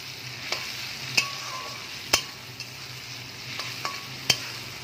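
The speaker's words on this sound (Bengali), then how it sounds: "এবার আমি টমেটো কুচিটা এর মধ্যে অ্যাড করে দেবো।" Onions and chopped tomato fry in a pan, with a steady soft sizzle and occasional sharp scrapes and taps from stirring.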